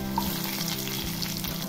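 Dry gram greens frying with roasted garlic and green chillies for a Bhogi mixed vegetable dish, a steady close sizzle with faint stirring, no voices.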